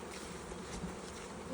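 Honey bees hum and buzz in a close, continuous drone as frames are moved and bees shaken into a nuc box, fairly quiet and with no talking.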